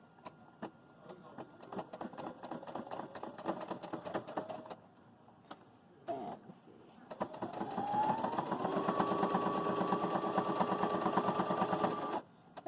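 A Baby Lock Jubilant sewing machine stitches in a close, whirring, rhythmic run, pauses briefly, then resumes with a smoother, faster hum before stopping abruptly.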